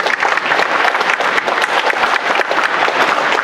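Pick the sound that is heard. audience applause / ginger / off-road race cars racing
audience applause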